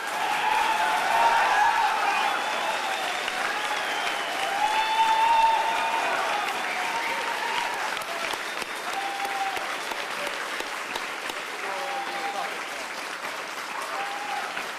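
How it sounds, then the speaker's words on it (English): An audience breaks into a sustained round of applause, steady and fairly full, lasting throughout at an even level with a slight swell early on. "the first thing I would like for him to hear would be a good round of applause from everybody."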